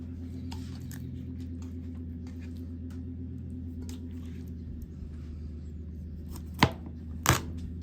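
A knife cuts through raw chicken for jerk chicken, with two sharp, crunchy cuts near the end over a low, steady background hum.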